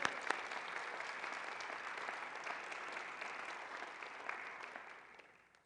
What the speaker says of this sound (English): So everybody give yourselves a round of applause for being here.